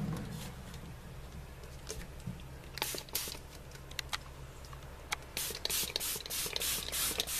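A hand spray bottle misting water onto the plants inside a Jackson's chameleon cage, a series of short, crisp hissing spritzes close by, sparse at first and then coming in quicker repeated bursts, with no talking.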